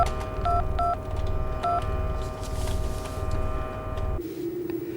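Telephone keypad dialing tones as a call is placed, three short beeps in quick succession over a steady hum and low background rumble, followed by a faint tone as the line connects.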